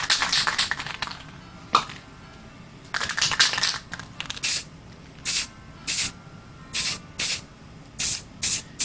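Color Shot Marshmallow white spray paint hisses from an aerosol can in a series of short bursts, first a few longer uneven sprays, then evenly spaced quick puffs, close and fairly loud with no talking.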